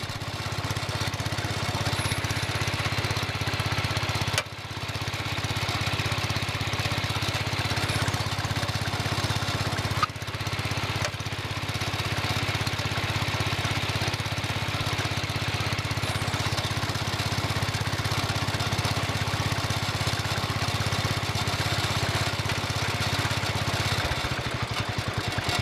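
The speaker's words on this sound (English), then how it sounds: "I'm going to give it a test with the engine running." A John Deere 110 lawn tractor engine runs steadily at a constant idle hum, close by, with two brief dips in the sound partway through.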